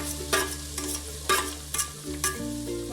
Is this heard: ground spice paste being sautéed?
yes